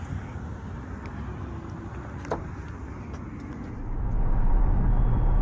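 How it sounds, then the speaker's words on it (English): Steady low road rumble and tire noise heard from inside a Cadillac car driving on the road, smooth and continuous, swelling a little louder near the end. "We are inside of the Cadillac now, and I must say, this is definitely a great, smooth ride."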